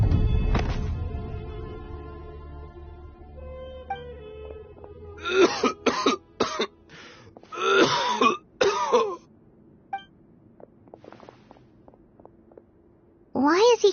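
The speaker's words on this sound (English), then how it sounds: "Why is he coughing so much?" A character in the game Genshin Impact coughs and clears his throat in harsh repeated bursts, several clustered coughs, up close against quiet ambient game sound with some speech.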